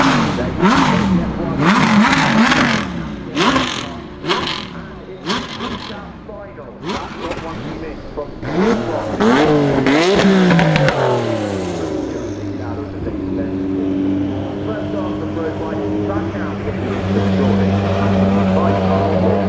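Drift cars at the Goodwood Festival of Speed rev hard in sharp repeated bursts, with rising and falling engine whines, then settle into a sustained loud drone. A commentator talks over the engines.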